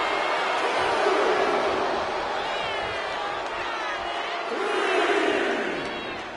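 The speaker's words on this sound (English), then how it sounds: "And Fallon Henley is channeling the energy of this crowd." Wrestling arena crowd in the WWE 2K25 video game roars in a steady, dense wash of cheering and shouting, swelling near the start and again toward the end, with no clear talk over it.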